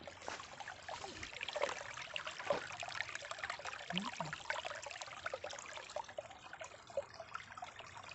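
Water trickles and babbles steadily in a small spring-fed stream at the foot of the Western Ghats, a continuous close-up burble with no voices.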